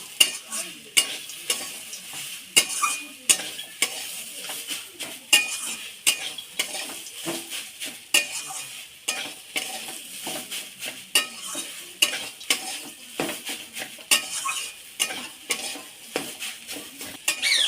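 Vegetable chop mixture being stirred and mixed in a pan, with repeated close scrapes and clinks of a spoon on metal in an uneven rhythm over a faint sizzle, and no voices.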